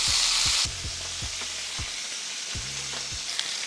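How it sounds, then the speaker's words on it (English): Oxtail pieces searing in a hot skillet: a bright, loud hiss at first that settles into a steady close sizzle, with several knocks and clatters as the meat is placed and moved, no speech. "We're gonna add the oxtail right to that hot skillet."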